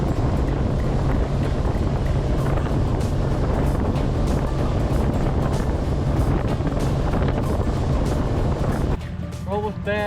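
A boat runs across open Lake Michigan with steady engine drone, wind buffeting and rushing water, loud and continuous, with a short quieter stretch at the end.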